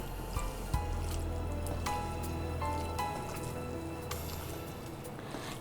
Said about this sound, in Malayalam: ഇനി ഒന്ന് നന്നായിട്ടൊന്ന് മിക്സ് ചെയ്ത് വയ്ക്കാം.